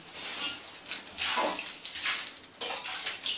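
Water pours and splashes over a Hanuman idol during an abhisheka bath, a steady close-up wash of running water that swells and breaks into bursts across the moment, with no voice over it.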